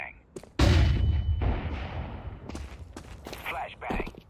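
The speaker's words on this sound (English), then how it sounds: "Throwing flashbang." A flashbang grenade bursts in Counter-Strike 2 gameplay, a sudden loud broadband blast that decays over about a second, followed by scattered clicks, footsteps and short game effects.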